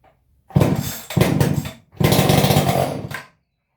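An old Stihl 031AV chainsaw on half choke fires and runs in three loud, close bursts, each engine roar lasting about a second before cutting out, with brief gaps between.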